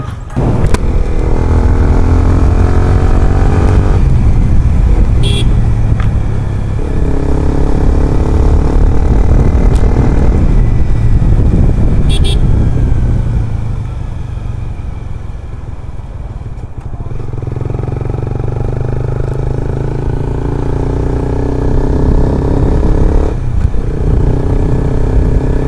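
A superloud Honda CBR250R motorcycle revs hard and close up, its engine surging and dropping in repeated long pulls with a short quieter lull midway, loud throughout with no talk.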